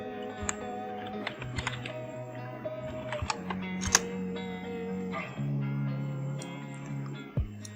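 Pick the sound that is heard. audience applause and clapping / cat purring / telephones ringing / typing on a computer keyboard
typing on a computer keyboard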